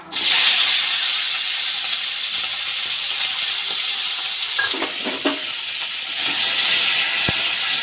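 Cut green beans fry in hot oil with whole cumin seeds in a pan. A loud, steady sizzle and hiss carries a few clinks of stirring and swells louder toward the end.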